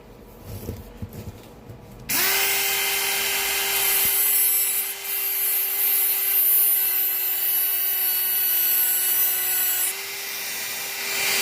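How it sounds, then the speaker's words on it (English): A Dremel rotary tool cuts out bolts with a loud, steady high-pitched whine that runs continuously for several seconds after a brief scraping start, close up and without talk. "why don't we take and see if we can get these bolts out. I think the Dremels kind of come to the rescue again."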